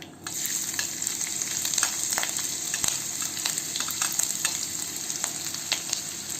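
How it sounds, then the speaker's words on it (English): Fresh ginger and garlic fry in a pan for veg fried rice, giving a steady close sizzle with scattered pops and crackles throughout, no talking. "Next, I'm adding in ginger and garlic."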